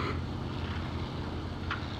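Steady droning aircraft engine from the IL-2 Sturmovik 1946 flight game, overheating and running under a prop pitch problem, a continuous low rumble with a short faint click near the end and no voices.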